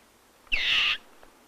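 Black eagle calling among rocky kopjes, a single loud, drawn-out high whistled note lasting about half a second, alone against quiet background.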